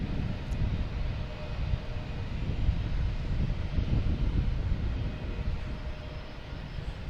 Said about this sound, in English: next to arrive, we have another JetBlue coming in from San Diego with the Fresh Mint livery